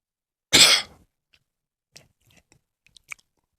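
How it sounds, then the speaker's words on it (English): A single loud, harsh cough bursts out near the mic, followed by a few faint clicks and small mouth noises in otherwise quiet surroundings. "sorry for the coughing and stuff"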